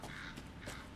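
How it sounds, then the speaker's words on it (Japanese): A crow caws inside the horror game Resident Evil 7, two short harsh calls close together, faint against quiet game ambience. "カラス。"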